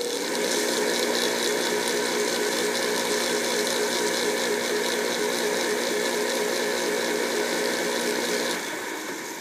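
A repaired Goodman furnace draft inducer motor runs steadily after being fired up, a loud continuous mechanical whir with a rapid ratcheting buzz and a faint hum beneath, easing off slightly at the end.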